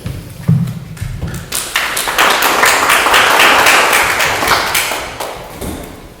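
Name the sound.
audience applause at candidates forum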